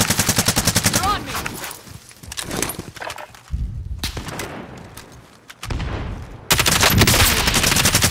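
Call of Duty: Modern Warfare gunfire crackles in rapid, loud bursts of automatic shots, pausing briefly and then resuming in a sustained volley, with voices talking in between.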